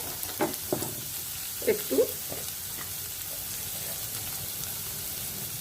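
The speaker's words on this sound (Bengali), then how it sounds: "আর পেঁয়াজ ভাজার সময় আমি এতে" Onions sizzle in a frying pan while cooking for lobia, with a few louder stirring scrapes early on and a steady soft crackle beneath. A voice briefly speaks.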